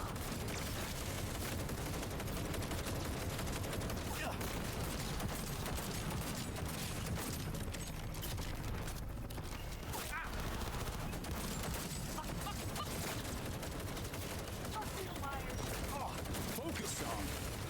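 Sustained gunfire from a Cyberpunk 2077 Phantom Liberty firefight, dense overlapping bursts and rattling shots filling the whole stretch, with shouted voices mixed in underneath.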